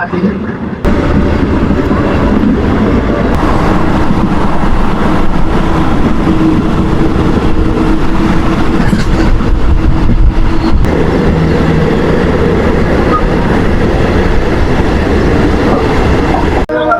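A local train pulls out of Panagarh railway station in the early morning, a loud, continuous rumble and clatter of wheels and cars close by, with voices talking over it.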